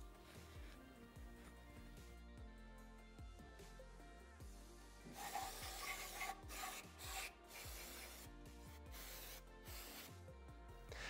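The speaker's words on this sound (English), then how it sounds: "We'll scrape this surface on the side of the cylinder, and we'll scrape off the base gasket" Hand scraping of the old base gasket and grime from the side surface of a Yamaha YZ125 two-stroke motorcycle cylinder, with Nikasil coating, heard as repeated close rubbing, rasping strokes that grow louder and denser midway.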